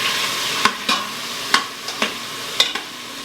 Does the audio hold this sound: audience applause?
no